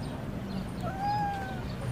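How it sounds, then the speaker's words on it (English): A single cat meow, played back by an interactive talking pen, rises and falls in one clear, mid-length call over a faint background hum. "A grey cat."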